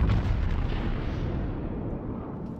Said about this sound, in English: that firing sound means business